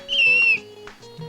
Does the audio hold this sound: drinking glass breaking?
no